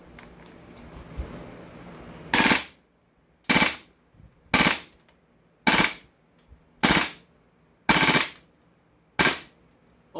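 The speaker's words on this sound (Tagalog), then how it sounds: "Grabing recoil yan, lakas! Rapid fire natin." A suppressed SCAR gas blowback airsoft rifle, run without an inner barrel, fires rapidly: about eight sharp, loud, close reports at a quick, even pace, each followed by a brief decay, with no voices.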